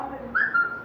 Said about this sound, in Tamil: யார் விசில் அடிச்சுக்கிட்டு இருக்கா?